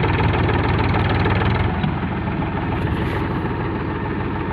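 Tractors hitched together with a tow chain idle steadily before an Eicher 242 versus Powertrac tug-of-war contest, a loud, continuous low engine rumble with a faint knocking throb and no talking.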